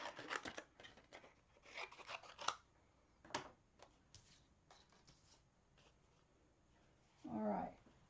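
Scissors cutting black cardstock up close, a quiet run of crisp snipping and paper rustles in short clusters, followed by a brief louder scrape near the end.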